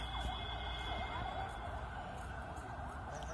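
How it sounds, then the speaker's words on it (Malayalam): An ambulance siren wails somewhat distantly, its rising and falling tone riding over a constant low hum. "അത് ആംബുലൻസ് ആണ് വെച്ചേ"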